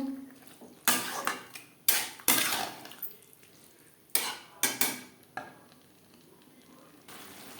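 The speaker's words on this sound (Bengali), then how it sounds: "চাল আলু ও মশলার সাথে চাল বেশ ভালো করে মিক্সড করে দেব" Metal spoon scrapes and clanks against a cooking pot while rice, potatoes and spices are mixed for Bengali muri ghonto, heard as bursts of scraping and knocks in an irregular rhythm, close and moderately loud.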